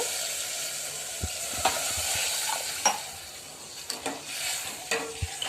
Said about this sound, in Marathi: थोडं पाणी टाकते